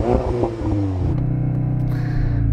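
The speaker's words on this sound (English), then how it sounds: "So I'm going to rev up this Audi." A loud Audi TT RS engine revs up close by, rising in pitch and then settling into a steady, rumbling idle.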